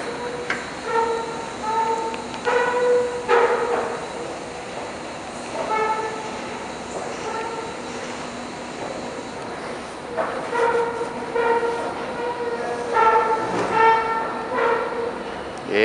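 An old CNIM escalator runs with a steady mechanical rumble, broken by repeated honking, bark-like squeals that sound like a seal. The squeals come in irregular bursts close by.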